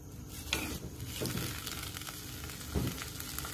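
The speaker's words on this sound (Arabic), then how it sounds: "بدي اقلل اللحمه شوي بالزيت النباتي لحتى تاخذ لون خفيف" Coarsely minced meat frying in a couple of spoonfuls of vegetable oil gives a continuous soft sizzle, with a few louder bumps where it is stirred or shifted in the pan; no voices.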